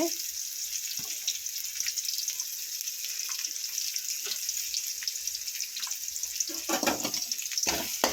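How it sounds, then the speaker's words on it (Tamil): Shallots sautéing in a pan for a crab gravy, a continuous bright sizzle with occasional soft stirring scrapes, steady and close throughout. "வெங்காயம் நல்லா வதங்கட்டும்."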